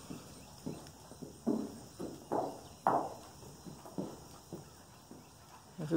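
Several horses clip-clop on a barn floor as they walk into their own stalls at a horse rescue gelding barn, hoofbeats irregular and moderately close, rising and falling in loudness.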